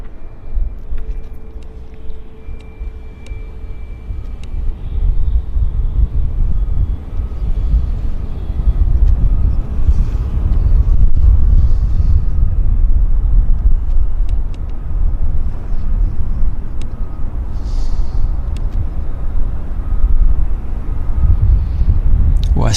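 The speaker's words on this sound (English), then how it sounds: "I see this Dash 8 from Kelowna getting a bit closer." A Dash 8 turboprop from Kelowna approaches the airport, its broad low engine rumble building steadily and holding loud and close over the whole stretch, with faint background hum and no talk.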